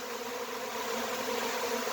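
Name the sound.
honeybee swarm buzzing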